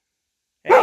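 A single short, loud bark or huff from a dog at night in the bush near an old 1940s cabin, a lone burst arriving after silence and cut off abruptly.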